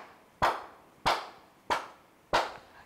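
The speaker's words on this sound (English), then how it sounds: "Let's clap our hands." Hand claps at a bilingual children's storytime: four crisp claps in a slow, even rhythm, spaced a little over half a second apart, fairly close, with no talking between them.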